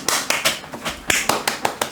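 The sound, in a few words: people applauding each other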